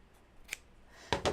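Scissors snip a few times close by, a light click followed by two quick crisp cuts through scrap quilting fabric, in a quiet room.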